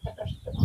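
Black Australorp and Jersey Giant chickens make short, close clucking calls in a quick run of three or four bursts.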